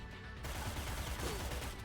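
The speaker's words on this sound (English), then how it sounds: "shoot the assault rifle and kill them all" A dense, continuous burst of rapid assault rifle gunfire in the video game Cyber Knights: Flashpoint, loud and close, firing nonstop with sharp crackling impacts.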